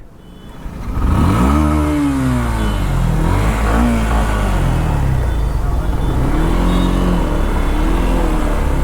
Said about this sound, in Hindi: I am riding a bike right now